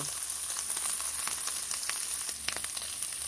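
Pork, garlic and onion sauté in a pan for a home-cooked munggo with spinach, giving a steady, close sizzle and fry crackle with small spattering pops running throughout and no talking.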